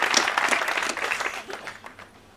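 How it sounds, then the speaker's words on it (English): Dense applause from a debate audience at an IQ2 debate, a thick, steady patter of many hands that gradually thins and fades near the end. "Give her a round of applause, ladies and gentlemen."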